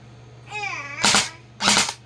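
Two sharp, close cracks from an airsoft gun fired downward, spaced about half a second apart, with a brief whistling tone just before the first.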